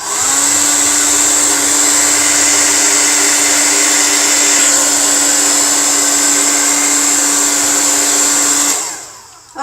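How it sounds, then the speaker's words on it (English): A hair dryer blows steadily at close range, drying liquid latex for a slit-throat Halloween makeup effect, running as a continuous whine and rush of air before cutting off near the end. "the next thing I'm going to do is blow dry."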